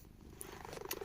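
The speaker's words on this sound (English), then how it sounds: "He's purring. He's happy." A pet cat purring close by, a soft low rumble that builds slightly over about a second, with a few faint higher clicks and no talking.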